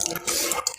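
Water poured for rinsing up after a meal, a brief close splash and gush lasting under a second, with no talk.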